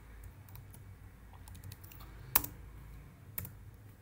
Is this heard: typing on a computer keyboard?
yes